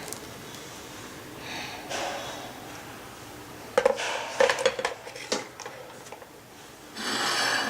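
Boiled oats being scooped from a pot into a bowl, a run of close metallic scrapes and clinks of a spoon against cookware in the middle, with soft rubbing before and after.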